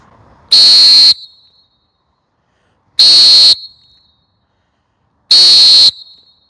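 A coach or referee whistle, rated around 113 decibels, blasts three times, each a loud, shrill, steady tone lasting about half a second, separated by roughly two-second gaps of silence, close and alone.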